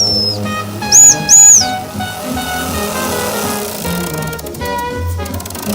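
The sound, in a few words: model steam engine whistle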